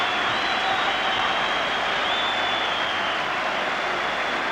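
Stadium crowd at a Scottish football derby between Hibs and Hearts applauding a player leaving the pitch, a broad, steady wash of distant clapping and crowd noise with no clear individual claps.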